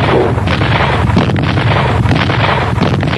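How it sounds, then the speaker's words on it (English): Artillery fire from the Nigerian Civil War in Biafra, a continuous loud rumble of heavy booms and blasts layered over one another with no pauses. "with the pounding of artillery and the pounding of mortar shells"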